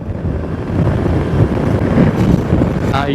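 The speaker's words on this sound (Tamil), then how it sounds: "அந்த அளவுக்கு பயங்கரமா காத்து அடிக்குதுங்க" Strong wind buffets a rider on a motorcycle along a straight road near Tenkasi and Courtallam. It makes a continuous loud, low rumbling roar that swells slightly partway through.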